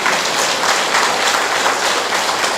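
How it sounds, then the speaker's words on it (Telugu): Audience applause, a dense, steady wash of loud clapping from a crowd that holds level throughout the short stretch. "జనమంతా నిన్ను పొగుడుతారు, చప్పట్లు కొడతారు, కొంచెం గట్టిగా కొడతారు."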